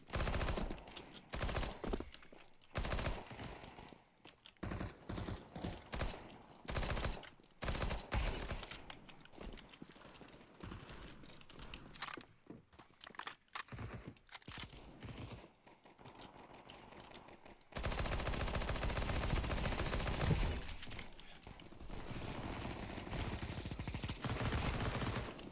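P90 submachine gun fire in Counter-Strike 2 comes in rapid, rattling bursts separated by short pauses. The last stretch turns into a denser, continuous barrage.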